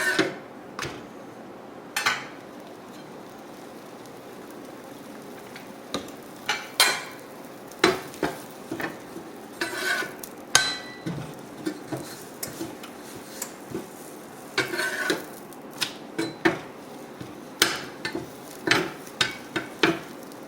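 A corn tortilla fries in olive oil in a hot cast iron pan, giving a soft sizzle broken by frequent clicks and scrapes of utensils against the pan, with no talking.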